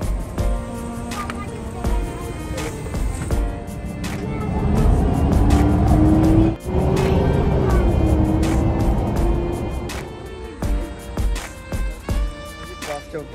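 Riding inside a city bus in Berlin: a continuous engine drone that swells and rises in pitch as the bus accelerates, then eases off, with scattered clicks and rattles around it.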